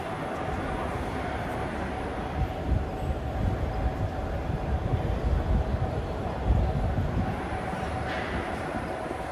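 A laser rail maintenance train rumbles past steadily at a rail shop open house, a loud continuous low roar with rail noise and no breaks, close by.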